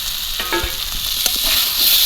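Potatoes and fried snakehead fish pieces sauté in spices in a pan, giving a steady close sizzle and frying hiss with brief stirring clatters, no voices.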